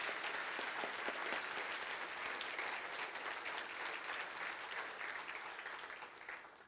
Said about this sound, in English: So I'd like you to really give them a big round of applause and say thank you to them.